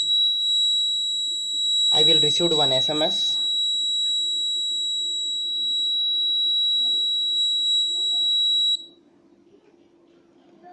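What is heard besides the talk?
gas sensor alarm buzzer sounding on ARM environment monitor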